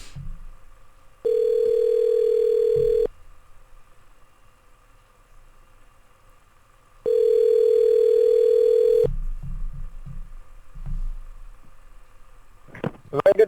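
A telephone ringback tone sounds twice as long, steady beeps about two seconds each, separated by a quiet pause, while calling someone again; soft low rumble and brief voice fragments fill the gaps.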